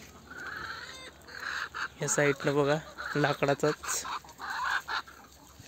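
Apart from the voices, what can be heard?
chickens clucking in a coop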